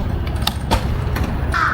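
One crow on a street in Japan gives a harsh caw near the end, after a few sharp clicks, above a constant low hum of street noise.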